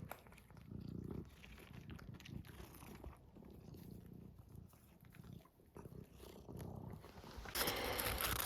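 Farm cats purring close up while being fed in bitter cold, a soft continuous rumble with occasional chewing sounds, ending in a louder burst of noise.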